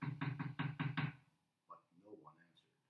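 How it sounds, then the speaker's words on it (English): Five crisp knocks on a door sound in a quick, even sequence, followed by a brief spoken voice afterward. "He knocked on the door."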